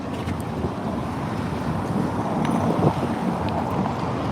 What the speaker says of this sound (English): It is also windy.